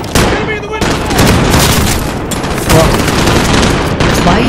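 Gunfire in Call of Duty: loud, close, rapid shots ring out in dense repeated bursts, with a brief pause near the start and then almost continuous firing.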